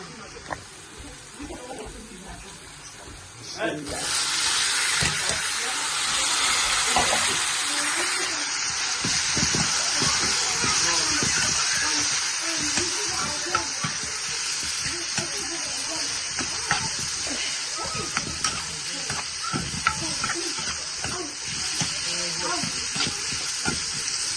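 Onions and mushrooms frying in a pan, a steady broadband sizzle that jumps louder as the mushrooms go in and then holds, with occasional stirring scrapes underneath.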